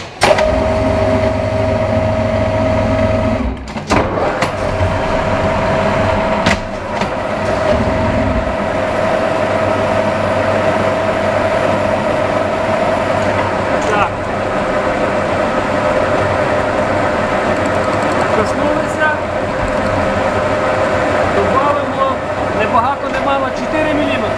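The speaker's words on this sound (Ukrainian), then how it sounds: "Фреза на 10 пластин діаметром 160 мм. Ну що ж, поїхали." A milling machine runs a 160 mm face mill fitted with ten inserts, giving a steady, loud mechanical drone with a continuous tonal hum throughout and a few sharp knocks early on.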